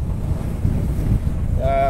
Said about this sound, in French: donc c'est qu'il y a du vent.